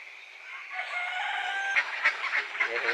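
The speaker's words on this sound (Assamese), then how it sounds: "এইখিনি হাঁহখিনি।" Farm ducks and geese call in a steady chorus of honks and quacks, with sharper, louder cries breaking through toward the end.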